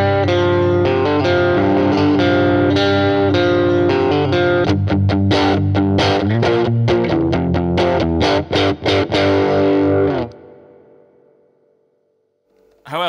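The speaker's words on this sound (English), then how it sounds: "There's actually a surprising amount of gain on tap as well" Heavily overdriven electric guitar through a Vox Mini Superbeetle amp at high gain with the bridge volume on 10, loud sustained chords giving way to choppy staccato stabs, then a ringing reverb tail fading out before a brief final strum.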